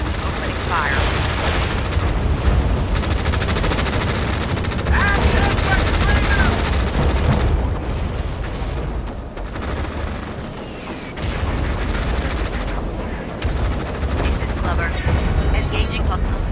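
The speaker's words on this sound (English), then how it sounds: "Big gun. Hostiles in range. Opening fire." Big gun units in the video game Tom Clancy's EndWar open up in a loud, continuous barrage of rapid gunfire and booms with a brief lull midway, while radio-style voices talk over the battle.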